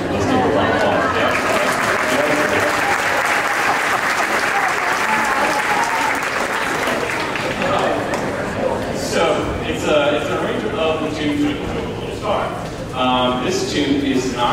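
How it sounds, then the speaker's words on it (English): A school audience applauds at a fifth-grade spring concert, a loud, sustained wash of clapping from a crowd that gradually thins, with scattered voices and chatter emerging toward the end. "Let's give a round of applause"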